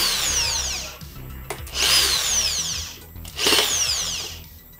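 A power driver running screws into an Asia electric fan during repair, with two or three whirring bursts, each rising and slowing, separated by brief handling noise, close and clear with no talking.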